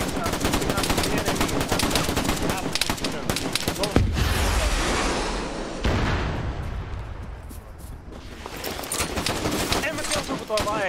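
Dense machine-gun bursts and rifle fire crackle loudly and continuously in the REDCON-1 video game, with heavy rapid volleys and booming impacts; excited voices shout over the fighting.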